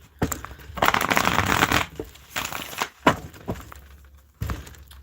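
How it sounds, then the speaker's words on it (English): Tarot cards being shuffled by hand, bursts of dry riffling and flapping of card stock in uneven spurts with brief pauses, close and crisp. "going to keep shuffling"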